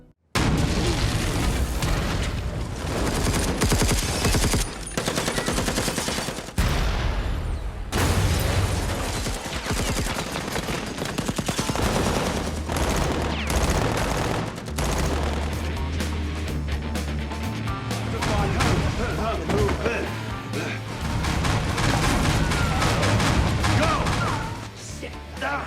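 A battle scene from an action movie brings loud, continuous explosions and bursts of gunfire, a dense barrage of booms and crashes that lasts throughout.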